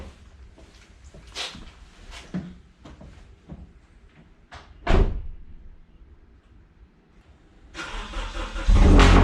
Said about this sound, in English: here is a cold start on a 2011 Nissan Cube